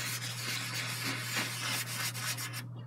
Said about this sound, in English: let's clean this brush